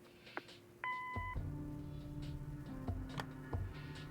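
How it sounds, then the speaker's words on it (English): An answering machine in the game Kathy Rain gives a single short electronic beep, followed by a low steady hum and faint ticking from the line. "Leave a message after the beep."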